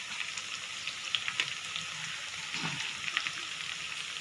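Fish curry gravy bubbles and simmers steadily as fish is added, with a constant hiss broken by small pops and a few soft splashes.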